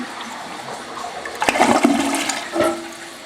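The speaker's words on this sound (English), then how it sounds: "That was the initial flush." A newly installed toilet flushing nearby, a rushing swirl of water that builds, gurgles and then eases into the softer sound of the bowl refilling.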